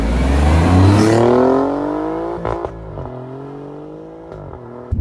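Alfa Romeo sports car engine revving hard and close, its note climbing then easing off into gear changes, with short sharp exhaust crackles and a lower settling drone.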